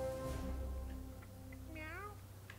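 A cartoon cat meows once, briefly, in the video game South Park: The Fractured But Whole, a short rising and falling cry over a steady hum of background game audio.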